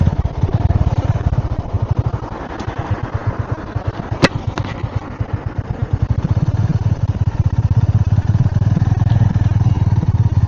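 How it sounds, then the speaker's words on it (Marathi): A motorcycle engine thrums steadily during a highway ride from Pune to Akkalkot, close and loud, with a fast, even pulsing beat and rushing wind noise, one brief sharp click in the middle. "थोडा वेळ आता मी गाडी चालवणार आहे, क्षितिजला आराम देणार आहे."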